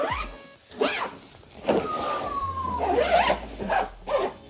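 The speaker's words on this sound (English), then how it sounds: "you just zip it right back up" A zipper is pulled closed around a portable foldable solar panel's carrying case in quick, raspy bursts, near and moderately loud with brief pauses.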